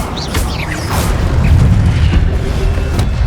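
Incendio fire spell cast in Hogwarts Legacy, a loud deep rumbling boom with a whooshing fiery burst and sparkling, crackling debris over a sustained low roar.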